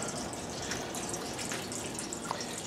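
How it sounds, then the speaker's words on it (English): Homebrewed dark ale siphons through a tube into a keg, giving a steady close trickling and gurgling of liquid with a few faint drips and no voices. "as it begins to siphon, I'll just tilt it to get as much out of there as I can"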